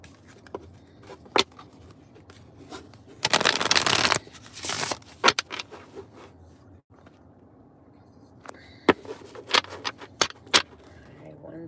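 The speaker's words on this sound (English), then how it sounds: "I'm going to shuffle these cards up" A deck of cards is shuffled in a few quick riffling bursts, the loudest lasting about a second, alongside scattered taps and handling noises nearby.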